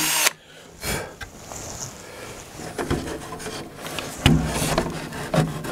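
A 3 mm bit drilling holes into wood while building the fuselage of a Bellanca Decathlon aircraft, heard as short bursts of whirring and rasping with thumps and handling noises between them, close by.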